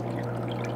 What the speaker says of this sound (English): You can see there's water coming out of there.